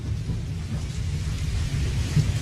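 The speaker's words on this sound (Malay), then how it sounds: "datang lagi hujan selebat-lebatnya Casey" A heavy downpour roars steadily, with a deep, continuous rumble of thunder rolling beneath it. The storm is loud and constant, with no voices.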